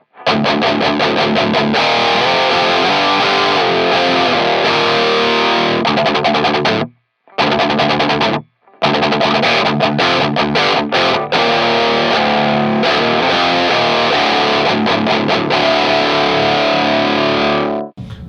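Electric guitar played through a KSR Ceres three-channel preamp pedal on its tight setting, heavily distorted and loud throughout, with two brief silent breaks near the middle and no talking.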